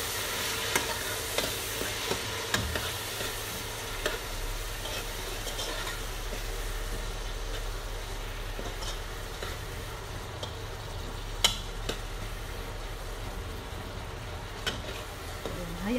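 Chopped tomatoes with garlic sautéing in a pan for a Filipino goat salona dish give a steady, soft sizzle throughout, with occasional faint clicks and stirring sounds.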